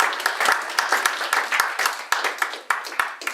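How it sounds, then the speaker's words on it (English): Audience at a hiring-resources presentation gives a round of applause, a moderately sized crowd clapping briskly with distinct individual claps standing out as the sound gradually thins. "round of applause for Massachusetts"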